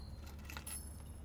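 Car keys jingling as they are picked up in the video game Blue Prince, a short bright metallic rattle over a steady low hum, close and fairly quiet.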